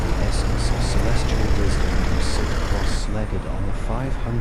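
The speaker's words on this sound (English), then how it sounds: "It's insulating some noise from the road." Road traffic at a stop-and-go street with traffic lights, a dense, steady rumble of passing vehicles heard from a parked spot, with a voice speaking over it toward the end.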